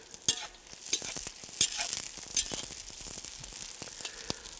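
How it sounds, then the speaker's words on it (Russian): Onion frying in oil inside a kazan outdoors in the evening for an Uzbek dimlama, with steady sizzling crackle and occasional stirring scrapes, close and moderately loud, no talk. "Лук я чуть обжарю для придания масла особого вкуса"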